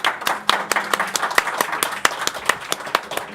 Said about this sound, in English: A round of applause for Vincie here.